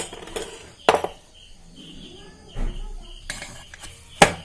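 A metal pakkavada mould goes into a metal sevanazhi press with several sharp metallic clinks and knocks, spaced apart, loud and close.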